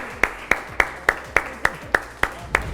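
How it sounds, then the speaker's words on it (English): Steady, evenly spaced claps ring out at an award celebration, about nine sharp hand claps in a slow, regular rhythm, fairly close and clear with no talking over them. "So can we give Daniel another round of applause?"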